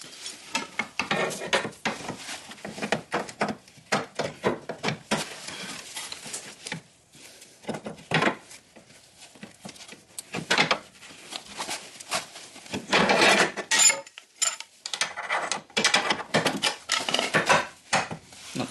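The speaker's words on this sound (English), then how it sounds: "now what we're going to do is try and lift it back into the control arm, and I might have to use double pry bars again" Metal pry bars lever a ball joint back into a car's control arm, giving irregular bursts of clanking, scraping and ratcheting metal contacts separated by short pauses, close and fairly loud.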